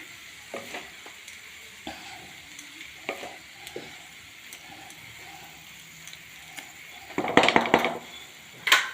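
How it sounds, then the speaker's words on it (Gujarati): Pea rice in a pot being gently stirred and folded, soft scrapes and light taps over a low hiss, then a louder burst of clatter near the end. "એકદમ શાંતિથી મિક્સ કરવાના હવે રાઈસ ભાગી ના જાય એવી રીતે"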